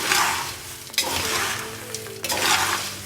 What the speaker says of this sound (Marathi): हा मसालाही आपण छान मिक्स करून घेऊया